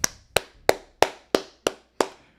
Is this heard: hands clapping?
yes